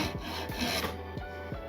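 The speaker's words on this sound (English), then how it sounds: "that's your clue to slow down, feather cut, real light, slow, smooth cuts" Hand saw makes light, slow, smooth feather strokes through a wooden board, a close rasping rub repeated in a steady rhythm of about five quick strokes, with no talk.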